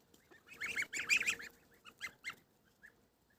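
A gander among goslings honks in a burst of several loud, nasal calls close by, then a few spaced single honks trailing off into quiet.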